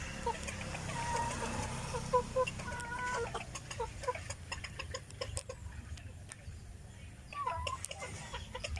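Chickens and roosters on a Filipino farm raising chickens, ducks and pigs, with scattered clucks and short calls at close range over low background noise, a voice speaking faintly at times.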